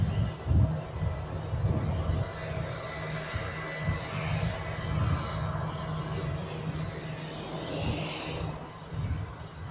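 An EasyJet jet bound for Berlin at Zurich Airport, a low, distant rumble of engines holding steady over several seconds, with a softer broadband roar drifting in and out.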